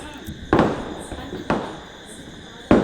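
Double ball shot Diwali fireworks bursting outdoors, three loud sharp booms spaced about a second apart, each followed by a crackling decay over faint background noise.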